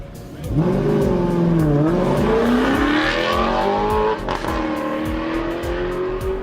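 Alfa Romeo 8C sports car engine revving loudly and climbing through rising pitch, with a brief tire squeal, close and steady for several seconds with no talk.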